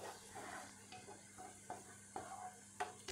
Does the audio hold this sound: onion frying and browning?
yes